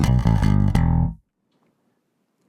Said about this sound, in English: So with no cab sim, it sounds like this.